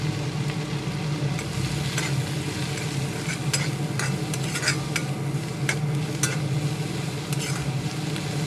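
Onions being stirred in a pan with salt and turmeric while cooking noted shak (amaranth greens), a steady low sizzle with scraping spoon strokes running throughout, no talking.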